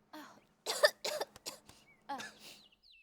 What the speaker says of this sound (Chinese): 原来你们是4大伤风咳嗽人。